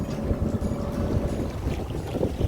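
A 2021 Tohatsu 9.8 hp outboard motor runs steadily on a small boat out on the water at Shell Key, giving a low continuous hum mixed with gusty wind noise, with no talking.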